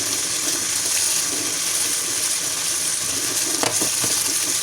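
Water runs steadily from a kitchen tap as a spatula is rinsed underneath, a continuous broadband hiss with a couple of brief splashy knocks near the end and no voices.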